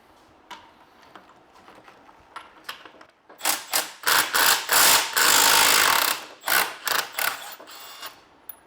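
Two impact wrenches work on suspension bolts of a BMW E39 540i, loud rapid rattling bursts in quick overlapping runs after a quieter start, close by in a garage.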